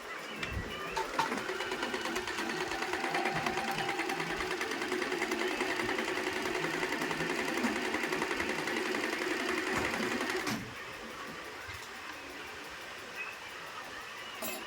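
An Usha Janome sewing machine stitching fabric, a continuous close mechanical whir with a fast rattling rhythm that runs steadily for about ten seconds, then drops to a quieter hum.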